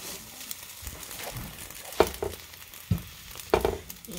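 Eggs frying in a pan with a soft, steady sizzle, broken by a few louder scraping and tapping knocks from a utensil as they are pushed and flipped.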